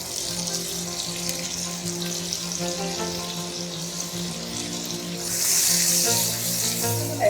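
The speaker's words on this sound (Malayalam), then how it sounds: "ഇനി ഇതിലേക്ക് 1 ടീസ്പൂൺ ബട്ടർ ചേർക്കാം." A teaspoon of butter melting in a pan of hot oil over medium heat, giving a steady soft sizzle and hiss that swells louder toward the end, with no talk.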